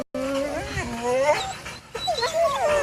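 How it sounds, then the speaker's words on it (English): Pet dogs whimper and yip at home, their high, wavering whines rising and falling close by, nearly continuous with a brief pause in the middle. "And those are my dogs."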